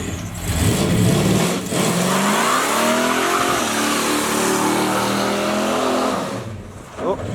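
A 500+ hp turbocharged Camaro with posi rear end revs hard while its tires slip and spin, a loud rising and falling engine roar across several seconds with a person talking underneath and a sharp burst near the end.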